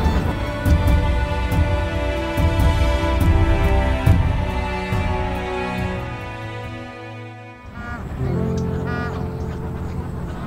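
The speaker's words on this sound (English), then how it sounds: "The Bar-headed Geese." A flock of bar-headed geese wintering in Karnataka call with a steady, overlapping chorus of nasal honks. The calling runs continuously and fairly loud throughout, with a short dip near the end.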